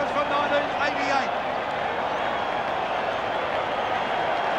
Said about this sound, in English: this crowd has erupted